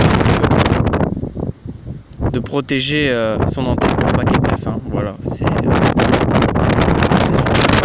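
Wind buffeting an outdoor microphone, heavy rumbling gusts that swell and drop away briefly, while someone speaks French throughout over the blustery noise.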